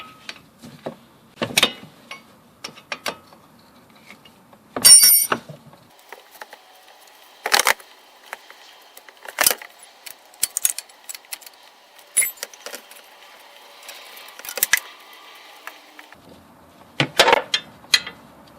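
Brake line bolt being undone with a wrench during a stainless steel brake line install: scattered sharp metallic clicks and clinks, close and fairly crisp, spread across the stretch with quiet gaps between them.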